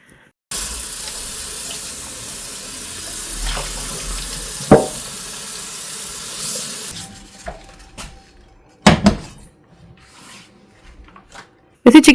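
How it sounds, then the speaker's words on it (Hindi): Tap water runs steadily into a sink as a cooking pot is rinsed out, with a few clanks of the pot against the basin and someone speaking now and then; the water stops partway through, leaving scattered knocks. "अभी मैंने उसमें से खाना निकाला, कल रात का बचा हुआ, और अभी मैं उसको वॉश कर रही हूँ"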